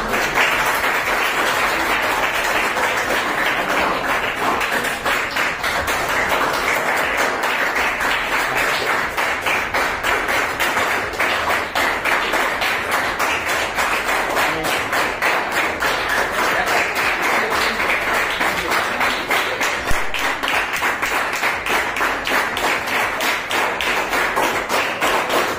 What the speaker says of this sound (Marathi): या ठिकाणी तुम्ही ज्या पद्धतीने उत्साहात टाळ्या वाजवल्या